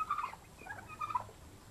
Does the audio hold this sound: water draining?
no